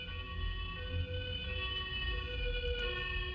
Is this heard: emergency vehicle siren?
yes